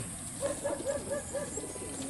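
Released pigeons coo in a steady series of five or six soft, evenly spaced notes against a constant background hum.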